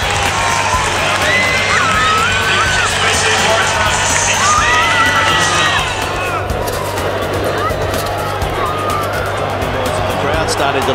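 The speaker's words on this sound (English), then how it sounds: "The crowd started to like it too, Kernsey." A rugby crowd at a Waratahs match keeps up a loud, continuous roar of cheering and shouting. A commentator talks over it throughout.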